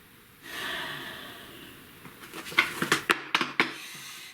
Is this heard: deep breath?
yes